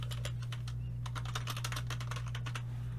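Rapid, uneven clicking of computer keys while someone types out code for a p5.js sketch, close and steady for a few seconds over a constant low electrical hum, with no voices.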